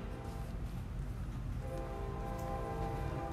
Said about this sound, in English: Here's my friend the train